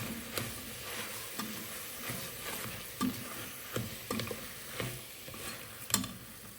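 Tomatoes sizzle quietly in a pan for a shrimp roast while a utensil stirs them, with light scraping taps at irregular intervals.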